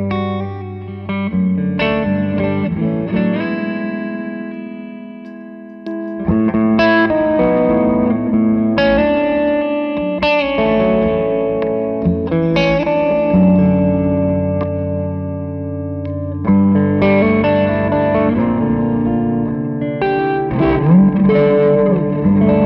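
Electric guitar played through a pedalboard of effects stacked on the amp's own reverb, sounding as sustained, distorted chords and notes with echo and long reverb tails, loud and alone with a brief dip near the middle.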